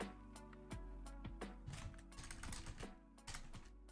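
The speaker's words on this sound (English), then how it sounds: "Can't type without looking at my freaking keyboard" Close-up clatter of a computer keyboard, with irregular bursts of keystrokes and scattered individual taps over a low background hum.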